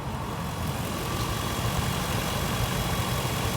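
A 2004 Ford Excursion XLT with a new factory engine idling, a steady, even mid-to-low rumble heard up close, with no talk.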